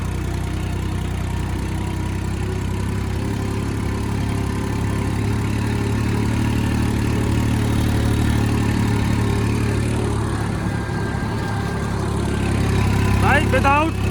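Tractor engine of a Model 41 without a turbo, running in second gear with a steady low rumble and strain under load; the engine drones continuously up close, with brief mechanical rattles near the end.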